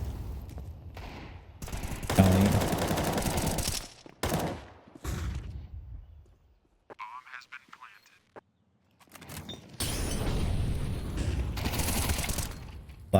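Counter-Strike match gunfire, with sharp rifle bursts and rapid volleys in several separate clusters, a quieter lull partway through, and an excited caster talking over much of the action.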